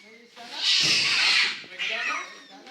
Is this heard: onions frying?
no